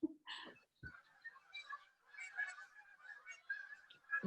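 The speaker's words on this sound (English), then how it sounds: "Can you hear the geese?" Geese honk outdoors in a scattered series of nasal calls, some overlapping, moderately near and fairly faint, with a few short thumps between them.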